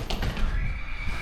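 Horse whinnying inside stables on a horse farm in Giza, a short close neigh over low rumbling stable noise with faint hoof shuffling.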